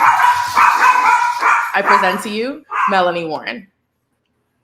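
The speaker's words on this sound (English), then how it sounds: "Sorry about my dogs." Several dogs at home bark and yip loudly in close, overlapping bursts under and between a woman's speech, then fall abruptly silent.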